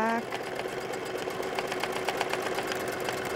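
A sewing machine doing free-motion quilting swirls hums and stitches in a rapid, even mechanical rhythm, loud and close, while someone talks over it.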